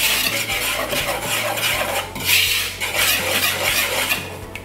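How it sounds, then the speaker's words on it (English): Dry baking ingredients, flour with baking soda and salt, are lightly whisked in a bowl, giving continuous close scratchy, rasping swishes with small clinks of the whisk against the bowl. "Then you want to give that a light whisk just to mix it all up."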